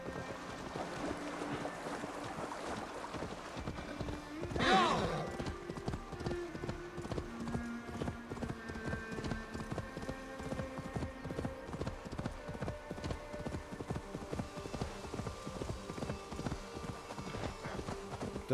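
A horse gallops in Assassin's Creed Valhalla, its hooves pounding in a steady, fast clip-clop rhythm close by, with a soft wash of wind behind it and a brief louder swell near the start.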